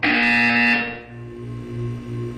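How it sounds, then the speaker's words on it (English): A buzzer from the video game Portal 2 sounds once: a loud electronic tone lasting under a second, then decaying, with a low hum pulsing in the background afterward. "When you hear the buzzer, look up at the ceiling."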